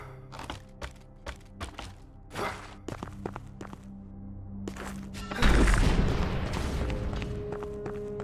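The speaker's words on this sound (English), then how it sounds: "A cannon." A cannon fires in The Last Faith, a soulslike game, with a loud deep boom bursting out midway and rumbling off. Scattered thumps and footsteps come before it, and no one talks.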